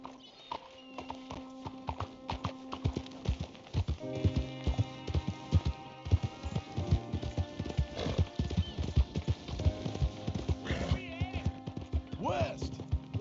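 Horse hooves clip-clopping in Red Dead Redemption, a steady trotting rhythm with occasional whinnies and snorts amid in-game ambience and scattered clatter.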